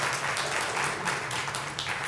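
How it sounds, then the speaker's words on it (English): Audience applause after a curator's presentation on picturing a beautiful America, dense steady clapping from a crowd filling the room throughout, with no voice over it. "Another big round of applause for his presentation and for having him here."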